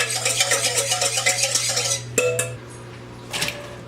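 A lime, lemon and orange juice marinade with red wine and white vinegar being whisked in a bowl for carne asada, a quick run of rhythmic metal clinks that stops, then a few scattered clatters.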